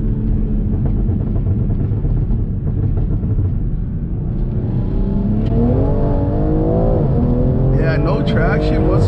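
A BMW M340i fitted with a downpipe accelerates hard with a rising, rumbling engine roar as the tires lose traction, heard from inside the cabin with someone talking over it.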